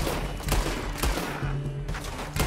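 Pistol shots crack out in the Red Dead Redemption 2 game, three or four separate reports about half a second apart over a steady loud background of ambient game noise.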